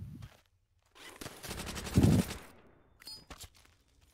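Machine gun fire in Call of Duty: World at War, a brief faint burst of rapid shots in the middle of quiet game sounds, with a few scattered softer noises around it.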